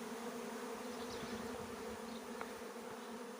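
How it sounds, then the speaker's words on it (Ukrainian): A swarm of honey bees that has just settled into an offered hive box buzzes in a steady, continuous drone, close by and quiet, with no talking. "Бжоли з того рая, що прилетів."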